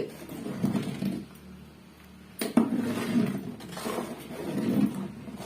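A long ladle stirs tomato pickle in a metal pan, giving a few soft scraping and clinking strokes close by at moderate level, with quiet pauses between.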